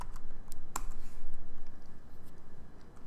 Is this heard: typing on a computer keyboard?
yes